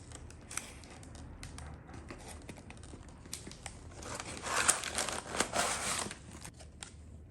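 Scissors snip out a small QR code from Timex watch packaging, with crinkling paper or plastic and sharp cutting clicks that grow busier in the middle, quiet and close.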